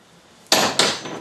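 Two sharp taps of a drill bit's center point struck into the four corners of a wooden piece during a woodworking build, loud and close, a quarter second apart.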